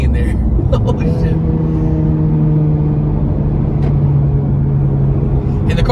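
A Honda Civic Type R FK8 engine drones steadily under hard acceleration, its rising tone loud and continuous in the cabin, with a voice speaking over it at times.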